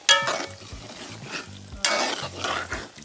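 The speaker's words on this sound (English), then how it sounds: "Mash it a little bit, like so, not to completion, just a little bit to help with the thickening." Cooked black-eyed peas being mashed and stirred in a pot, with soft repeated scraping and squelching strokes, a few louder pushes, and a gentle sizzle underneath at close range.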